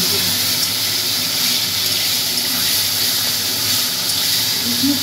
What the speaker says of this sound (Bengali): এবার আমি মাছটা ছেড়ে দিচ্ছি, মাছের মাথা হালকা করে একটু ভেজে দিচ্ছি।